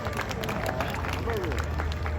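A crowd at an outdoor Deadwood, South Dakota street show bursts into sustained applause and cheering: a dense, close wash of clapping with voices mixed through it.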